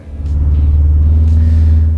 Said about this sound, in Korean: 지금 엔진 사운드가 조금 더 많이 들리는 거는 이 땅이 좀 부드러운 곳이에요